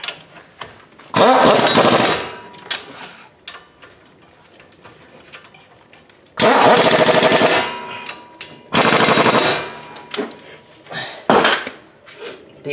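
An impact gun tightens the brake caliper bolts on a 2011 Chrysler 200 in a few loud, close rattling bursts, each a second or two long, separated by quiet pauses with faint handling noise.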